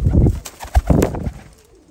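Breeding pigeons, tumbler and flying birds, coo close by in loud, low, throaty bursts. The calls come in a quick cluster and then fade toward the end.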